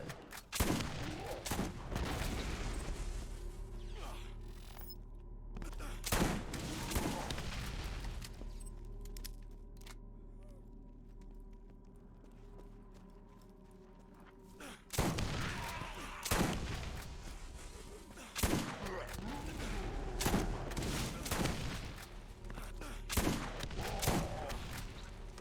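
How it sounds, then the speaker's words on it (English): Rapid, dense bursts of shotgun fire and booming impacts from the video game Borderlands, loud and continuous with layered game effects, dropping to a quieter stretch midway before the firing resumes. "The shotgun is so fun to use."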